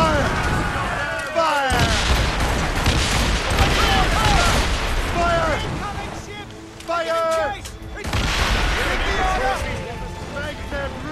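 Ship cannon fire in Assassin's Creed Rogue, with booming blasts under loud shouting crew voices and the roar of battle at sea, dense and continuous with a short lull partway through.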